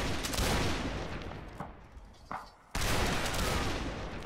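Musket volleys in a Napoleonic line battle game, with loud, crackling rolls of massed gunfire that fade to sparse shots and a brief lull, then erupt again in a fresh sustained volley.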